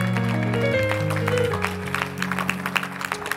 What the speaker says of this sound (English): Clap your hands and give God praise in the house.